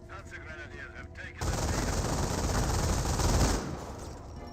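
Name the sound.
machine gun fire in Company of Heroes video game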